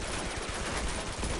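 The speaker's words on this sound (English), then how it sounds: "Just a few gunshots to the head as a consequence." Continuous gunfire in the video game Uncharted 2: Among Thieves, a dense, rapid crackle of shots blending into one steady roar, moderately loud with no talking over it.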